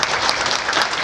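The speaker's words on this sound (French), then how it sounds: "Et moi, je vous applaudis tous." A community gathering in Montréal breaks into steady applause, a brief continuous wash of many hands clapping at moderate volume.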